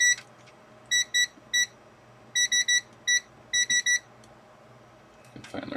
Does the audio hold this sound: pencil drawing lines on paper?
no